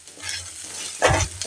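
Grated coconut stir-fried in a pan on low heat for a vegetarian taro-leaf dish, with a quiet sizzle and a louder scrape of stirring near the end and no talking.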